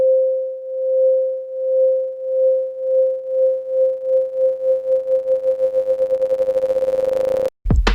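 A pure synth tone in LMMS pulses in volume as its LFO speeds up, the wobble accelerating from slow throbs to a rapid whirring flutter like a spinning top before an abrupt cutoff.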